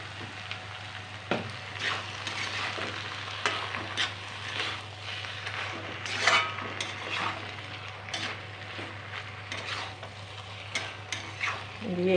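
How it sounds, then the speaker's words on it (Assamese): Ingredients sizzle and fry in a pan with ground turmeric while a utensil stirs and scrapes intermittently, producing soft clatters over a steady low hiss, with no talking. "আটাইখিনি বস্তু মই এইদৰে ভাজি ল'লোঁ।"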